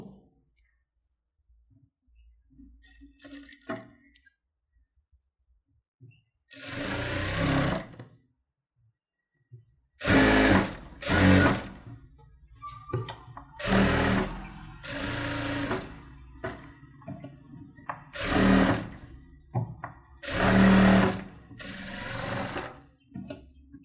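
A tailor's sewing machine stitches along a saree blouse edge in bursts: several loud whirring runs of rapid needle clatter separated by silent pauses and small handling clicks, with an opening stretch of quieter fiddling.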